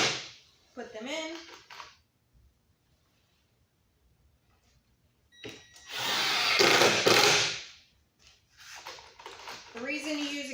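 A power drill drives 2-inch screws into wood, heard as a loud, close whirring burst of about two seconds between stretches of talking.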